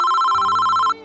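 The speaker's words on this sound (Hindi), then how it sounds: "अरे ये कौन मुझे फोन कर रहा है?" A cartoon telephone rings with a steady electronic trill held for almost a second, loud and alone, then breaks off into a low hum.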